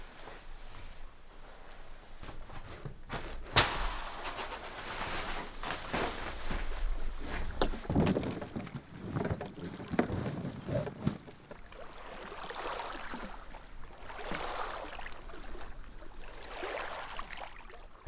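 A canoe or kayak paddles across open water near Isle Royale, with faint intermittent splashes and strokes against soft wind and a quiet background.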